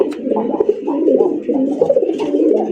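Red pigeons kept for sale coo loudly and close by, a dense, continuous run of throaty rolling calls overlapping one another with no voices.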